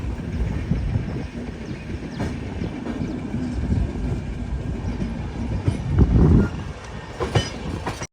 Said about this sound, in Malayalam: ട്രെയിൻ ഇപ്പം മിഠാപൂർ സ്റ്റേഷനിലേക്ക് എത്തിയിരിക്കുകയാണ്.